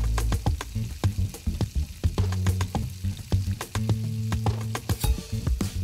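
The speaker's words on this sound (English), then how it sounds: "We fry our ingredients to smell a little" Ingredients frying with sugar in a hot pan for spicy stir-fried snails, a loud continuous sizzle broken by frequent clattering strikes and scrapes of the spatula against the pan.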